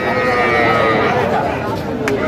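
Cattle, including bulls and heifers, low over a busy, crowded background of voices and chatter at a cattle market in Mymensingh, the mooing mixed into steady market noise.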